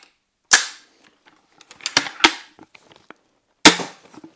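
An arrow shot from a 55 lb bow hits a foam spider-shaped target cube with a sharp, loud crack, followed by a few smaller clicks and knocks and a second sharp impact later, close and without talking.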